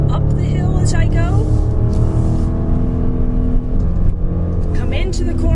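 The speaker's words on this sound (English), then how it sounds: "I'm going to smooth and steady on that throttle" Range Rover Sport climbing a hill under smooth, steady throttle, its engine a loud, constant drone with a rising whine, heard from inside while a person talks over it.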